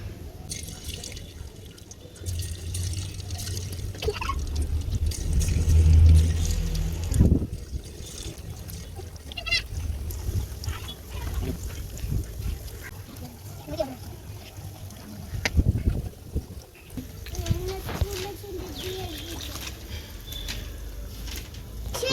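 Pieces of beef 65 deep-frying in hot oil give a steady, close sizzle and bubbling that runs throughout, with a voice talking over it.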